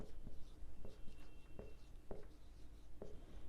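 Pen writing an account entry by hand on paper, a quiet series of soft scratchy strokes with small taps in an uneven rhythm, close and faint, heard alone.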